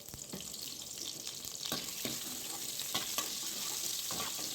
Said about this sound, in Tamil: எண்ணெய் ஊற்றி நல்லா வதக்கிக்கலாம்.